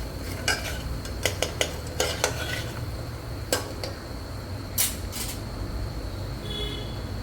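A utensil stirs turmeric into Kathiyawadi vaghareli khichdi in a pan, with scattered sharp clinks and scrapes against the metal over a low steady background.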